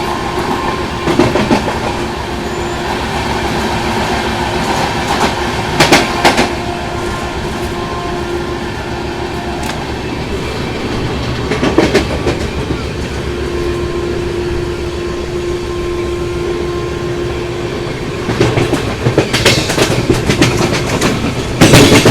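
New Delhi-Dibrugarh Rajdhani Express in 3AC running past Hasanpur Road Junction, a loud continuous rumble of wheels on track with recurring bursts of clickety-clack over rail joints.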